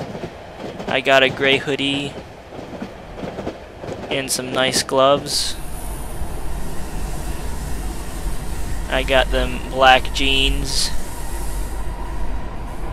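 A train in the horror video game Cry of Fear rolls along at moderate speed, with a steady, loud rumble and rail clatter running throughout, while someone talks over it in bursts.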